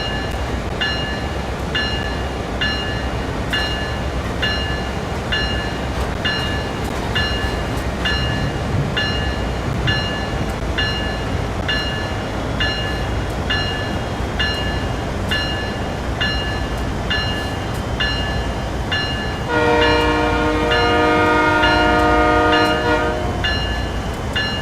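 Train running in the simulator game Train Sim World 5, a steady rolling rumble with regular clicks that holds throughout, joined near the end by a loud sustained horn blast.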